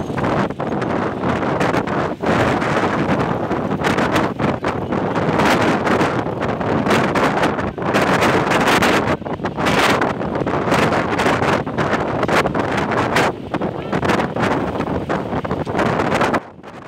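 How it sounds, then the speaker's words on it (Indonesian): Strong, gusty wind roars steadily across the Merah Putih bridge in Ambon, buffeting the microphone loudly and continuously with rushing bursts and no voices. "angin kencang yang melanda kota Ambon siang tadi menyebabkan puluhan orang terjebak di jembatan Merah Putih"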